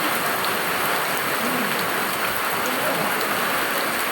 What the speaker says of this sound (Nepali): फेरि पनि पानी पर्यो